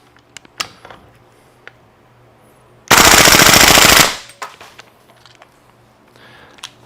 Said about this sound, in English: looks like about 18 rounds per second with the PTS bolt carrier group